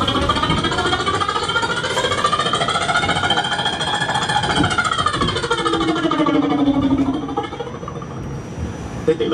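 A man on the NYC subway imitates helicopters with his voice, a loud, continuous, choppy throbbing buzz whose pitch sweeps up and down, then fades near the end.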